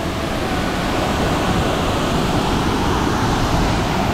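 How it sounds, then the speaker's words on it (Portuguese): Heavy rain pours down near a waterfall at Chapada Indaiá ecological park in Brazil, a dense, unbroken roaring hiss that stays loud throughout. "tá chovendo muito"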